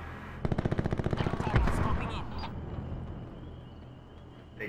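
Automatic gunfire in the Black Ops 4 shooter game: a loud, fast burst of evenly spaced shots, then a heavier blast and a fading rumble of game sounds.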